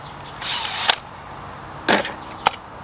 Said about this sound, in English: We're gonna do some screwing now.